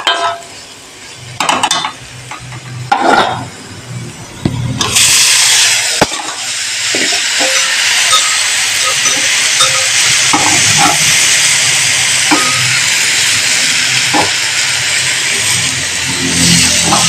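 Cooked breadfruit is stir-fried in a pan with dried chilli and turmeric. A few scraping stirs come first, then a loud, steady sizzle and hiss that runs throughout, with occasional clinks of a utensil against the pan.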